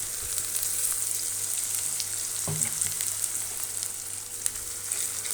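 Mustard seeds sizzle in hot oil for a Telugu drumstick curry: a continuous close frying hiss with faint crackles and one soft knock midway, with no talking.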